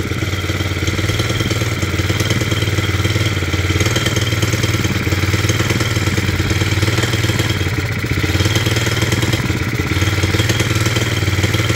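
A Hitachi ZV65R trench leg compactor, one of two broken units, runs steadily and loudly up close, its engine drone continuous with mechanical clatter and rattle throughout.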